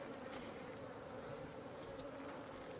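Honeybees hum in a faint, continuous buzz as frames are eased into a hive a little at a time, a soft, even drone with no voices.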